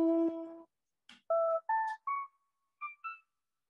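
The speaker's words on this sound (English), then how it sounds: "which is just a cool synth sound" Synth patch built from a sampled human voice with glide and delay, a sequence of short pitched tonal notes stepping upward, clean and isolated with silent gaps between them.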